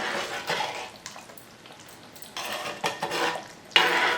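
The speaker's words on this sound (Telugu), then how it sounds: "ఇప్పుడు దీంట్లోకి మెత్తళ్ళను వేసుకోవాలి ఒకసారి కలుపుకున్నాం" A spoon stirs small fish into tamarind curry with raw mango in a cooking pot. Scraping and sloshing come in a few bursts close up, ending with a sharp metallic clink.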